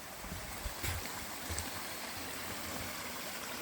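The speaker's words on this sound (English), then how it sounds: "And then you descend down into yet another little babbling brook" A small babbling brook on the Overland Track, heard at night as a steady, soft rush of running water with faint low gurgles and no voices.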